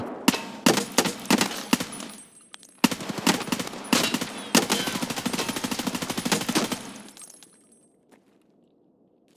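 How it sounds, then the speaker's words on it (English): Bursts of rapid automatic gunfire in the shooter game Escape from Tarkov, loud and close with short pauses between volleys, then a sharp single crack and trailing mechanical clatter as the firing stops. "where are they shooting from?"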